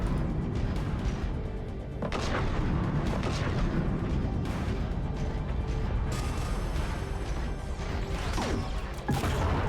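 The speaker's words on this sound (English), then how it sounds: "the delay when you fire the rocket" A rocket launcher fires in Mass Effect 3 Legendary Edition amid a dense, loud wall of combat noise, with heavy booms and crashing impacts breaking through the continuous rumble.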